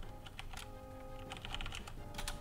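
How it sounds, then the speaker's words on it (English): Rapid, irregular keystrokes on a computer keyboard at a game developer's desk, clicking in quick bursts with brief pauses, close up and fairly quiet against a steady low room hum. "Why did I just start typing YouTube?"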